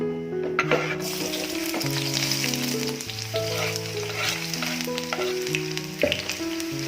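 Long-sliced onion frying in hot oil for Hyderabadi chicken dum biryani, with a continuous sizzle and occasional stirring scrapes under steady background music, with no talking.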